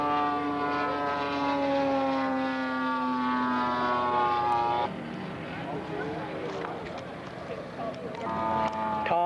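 At an outdoor scale aircraft show, a radio-controlled scale model of a Curtiss Jenny built from a Bud Nosen kit flies past. Its engine gives a steady, buzzing drone whose pitch slides downward, then the sound turns rougher and more diffuse.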